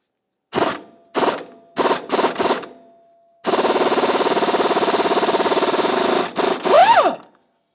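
A 15/16 crankshaft vibration damper mounting bolt is removed on a 1999-2006 Chevrolet Silverado engine: four short ratcheting bursts, a brief pause, then a sustained loud run of rapid tool clicking and whirring that ends with a rising squeal, close up with no talking.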